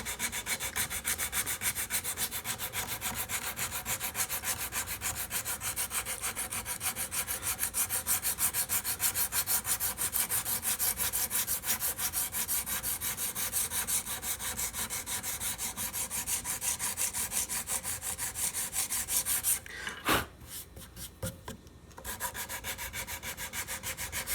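Wood hand-sanded with 100 grit sandpaper on a Vega Tubaphone tenor banjo conversion, rapid rhythmic back-and-forth rasping strokes, close and steady, with a brief pause and a few scattered strokes near the end.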